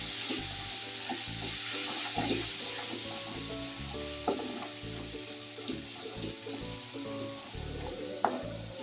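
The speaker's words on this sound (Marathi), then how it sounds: "लाल तिखट दोन चमचे आता हे छान परतून घेऊया" Spices with garam masala and red chili powder sauté in a pan with a continuous soft sizzle, overlaid by irregular stirring scrapes and light clicks of a spoon against the pan.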